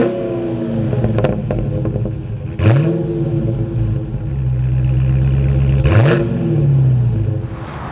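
Dodge Challenger Scat Pack muscle car engine cranking to life, then revving in sharp rising bursts that fall back to a deep idle, loud and close with no voices.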